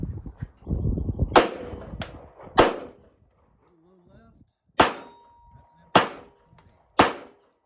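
Pistol shots at an outdoor shooting range striking steel targets. Several loud cracks come out of an opening of voices and low rumble, followed by spaced single shots, each ringing off with a metallic clang.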